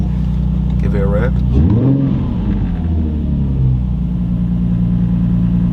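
A Nissan 350Z fitted with a 75mm big bore throttle body idles loudly with a deep, steady rumble, and a voice talks over it as the engine note shifts.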